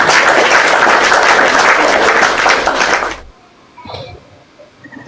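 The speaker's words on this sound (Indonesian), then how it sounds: "tepuk tangan dulu buat Tuhan" A crowd applauds loudly and steadily for about three seconds, then the clapping stops abruptly, leaving quiet room noise and a faint voice.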